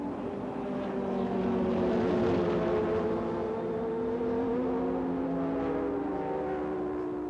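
Jaguar and Nissan prototype race cars scream down the front straight at Sebring during the 1990 IMSA 12-hour race, a steady high engine drone with rising and falling pitch as they pass.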